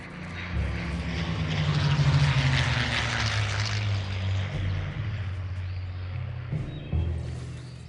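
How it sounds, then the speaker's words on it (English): Propeller planes take off from an airfield in Return to Castle Wolfenstein, their engines droning in a low, humming growl. The drone swells, holds steady and then eases back, with a brief bump near the end. "there are some planes leaving the airfield"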